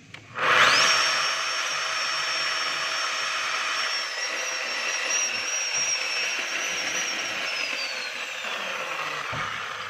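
DeWalt D25811 jackhammer running steadily on its own with a rough, gravelly motor whine and no hammering, one loud sustained drone lasting the whole stretch after a short start-up.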